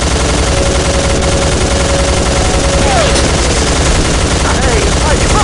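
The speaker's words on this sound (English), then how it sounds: "Open fire!" Sustained automatic gunfire and bursts of shots from the video game Soldier of Fortune II, loud and dense throughout, with game music and brief shouted voices mixed underneath.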